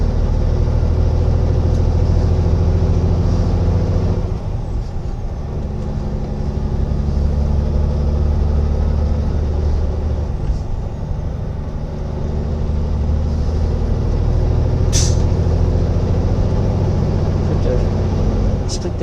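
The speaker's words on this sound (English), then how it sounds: "Split the gears again, go up another one." Truck engine working through split gear changes on the road, a loud, steady low rumble that dips around the middle and then builds again, under continuous talking.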